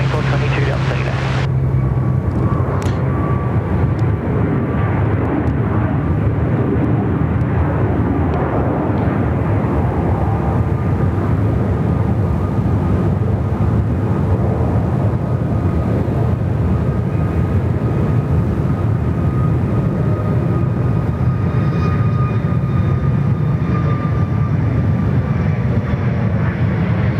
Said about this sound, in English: Here's our Max departure.